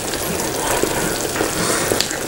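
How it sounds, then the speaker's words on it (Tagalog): Hot water from boiled mung beans draining in a kitchen, a steady loud gushing pour with light splashing and small spatters throughout. "i-drain nyo lang yung water"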